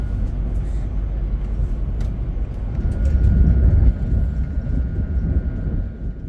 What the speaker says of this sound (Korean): 열차는 청량리역을 빠져나와 오늘의 환승 지점으로 이동합니다.